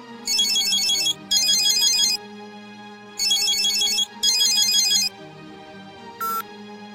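A mobile phone in a Bangla TV drama scene plays a melodic ringtone in four loud bursts separated by short pauses, then gives one brief beep.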